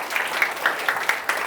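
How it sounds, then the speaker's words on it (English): An audience at an event claps in a brief burst of applause, with several distinct sharper claps standing out over a steady patter of hands. "So good round of applause."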